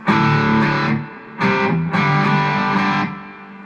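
Heavily distorted electric guitar chords from an SG ring out loud through a Peavey Classic 20 mini amp head, three sustained strums with brief gaps between them.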